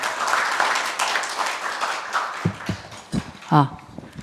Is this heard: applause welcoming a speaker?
yes